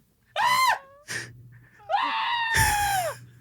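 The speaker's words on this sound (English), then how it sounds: "It's just the screaming goat." A played-back screaming goat sound effect: several loud, strained bleats in quick bursts, the last one long and drawn out, with short gaps of near quiet between them.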